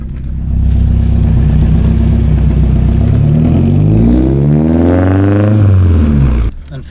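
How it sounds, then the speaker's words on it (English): A car with a suspension clunk, the owner's Volvo 240 awaiting steering rack work, revs loudly up close, its engine note rising and falling over several seconds. "my car still clunks a lot."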